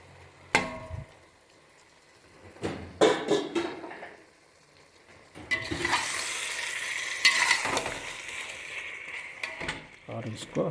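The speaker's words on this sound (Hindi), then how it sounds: "अब प्याज पानी छोड़ने लगा है, हम लोग इसमें मटन डाल देंगे।" Pre-marinated mutton and onions fry in a pot while being stirred, with intermittent scraping clatters, then a sustained sizzle with stirring, and a voice speaking between the bursts.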